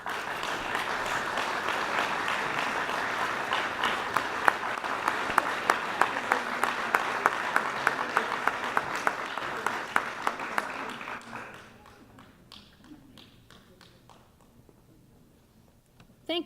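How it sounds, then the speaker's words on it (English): An audience at a 2019 chamber of commerce awards banquet dinner applauds a bank winning an award, with dense, steady clapping for about eleven seconds before it fades to scattered claps and quiet room noise. "would you please give a round of applause to Citizens State Bank"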